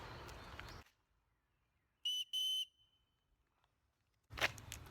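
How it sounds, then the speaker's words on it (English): The whistle built into the sternum strap of a Maxpedition TT26 backpack gives two short, shrill, piercing blasts in quick succession, loud and alone after a moment of silence. "it's a legit whistle."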